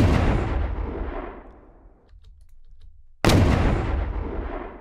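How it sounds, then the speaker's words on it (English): Weapon-drop sound effect preset run through the Boom Library Enforcer plugin: two heavy, booming impacts with long decaying tails, loud and close, separated by about a second of near silence. "Let's go into SFX weapon and browse the drop preset."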